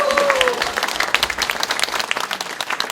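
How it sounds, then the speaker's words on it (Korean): Audience applause at a political talk concert in Gwangju, a dense steady wash of many hands clapping throughout, loud and close, with a brief voice or tone near the start. "큰 박수로."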